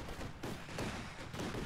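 Flak guns fire in quick, muffled bursts during a strategy game battle, a faint, steady chatter of distant anti-air rounds.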